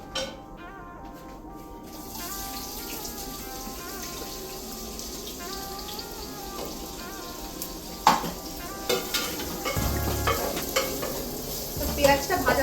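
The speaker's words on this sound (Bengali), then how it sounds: "পেঁয়াজটা ভাজা ভাজা হতে একটু টাইম লাগবে, তোমরা একটু হাই ফ্লেমেই ভেজো" Sliced onions fry over medium-high flame in hot oil in a pan, giving a steady sizzle broken by louder scraping stirs toward the end, with tonal music playing softly underneath.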